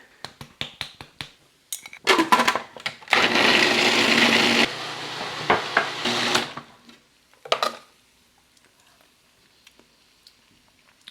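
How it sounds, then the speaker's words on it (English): A food processor blends ginger sauce ingredients with basil and curry powder. Quick clicks and bumps come first, then a loud whirring motor runs in a few bursts for about four seconds and stops, followed by sparse handling clatter. "So it's a little bit easier for the food processor to break it down"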